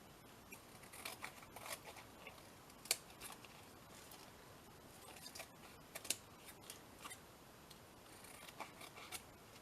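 Scissors snipping around a paper collage glued over recycled cardboard, trimming off small bits: soft, close, irregular clicks and crisp cuts scattered through the clip, with no talking.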